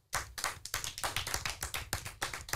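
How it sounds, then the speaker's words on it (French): A small audience claps for two schoolgirls after a school radio club segment, a dense burst of applause with sharp individual claps that lasts the whole moment, close and lively. "on les applaudit"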